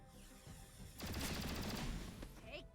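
Chain Shot gunfire in XCOM Chimera Squad breaks out as a quick rattling burst of shots lasting about a second, fairly quiet, with a sharp short tail after it.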